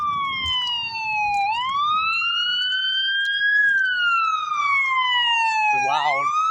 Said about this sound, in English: An ambulance. Which way is it going?